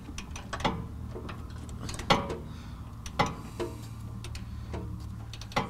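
A wrench works on the track bar bolts of a 1998.5 Dodge 24-valve 4WD diesel truck, making soft, irregular ratcheting ticks and a few sharper clicks over a quiet garage background, with no speech.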